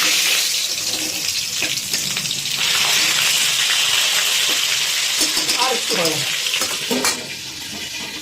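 Pangas fish pieces fry in hot oil with a steady, loud hiss and spatter that runs throughout, while a voice speaks briefly over it.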